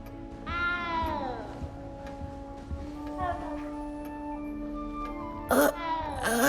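A small cat meows several times inside a huge castle in the Hogwarts Legacy video game. The rising, wavering cries sit clearly over a soft ambient background with light ticking, and a final louder meow comes near the end.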